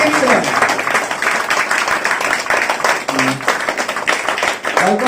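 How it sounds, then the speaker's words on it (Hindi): A crowd claps steadily, a dense patter of many hands filling the room, with a voice briefly cutting through near the end. "खड़े होकर आपको अपने लिए तालियां बजानी है"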